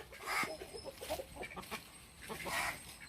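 A chicken clucks in short, irregular bursts nearby, with soft background noise around it.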